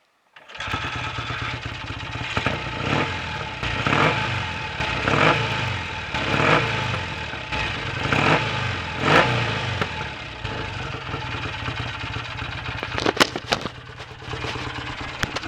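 A BSA A65 motorcycle with new carbs and electronic ignition runs close by, its engine repeatedly revving in rising surges over a steady idle for the whole stretch, then a few sharp knocks near the end.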